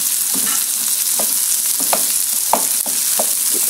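Onions stir-fry in a hot pan for beef teriyaki, with a constant loud sizzle broken by regular scraping and clinking strokes of a spatula.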